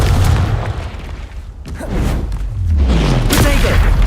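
A Confringo fire spell explodes in the Hogwarts Legacy video game, producing loud, deep booming bursts and rumbling blasts that run continuously throughout.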